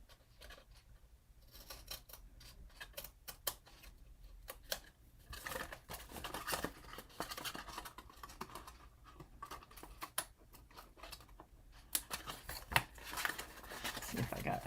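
Paper trimmed with scissors at a craft table: quiet snips and rustling crinkles of craft paper, close and soft, in irregular bursts with faint background noise and no talking.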